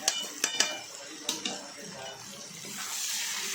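A spoon stirring Maggi masala into vegetables in a pan, with a few sharp knocks against the pan early on and a soft scraping, gently sizzling stir that follows, with no speech.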